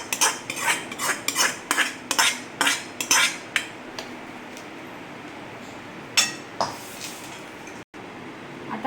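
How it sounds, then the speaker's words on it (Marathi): Fried puris being tipped and scraped into a large metal kadhai, a quick run of sharp metallic clinks and scrapes in the first half, then sparser knocks and clatter against quieter background. "आता हे फ्राय झाले, आपण हे या कढईत टाकून घेऊ."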